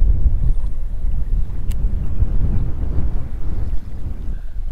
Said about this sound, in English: it's just so windy, I can't control it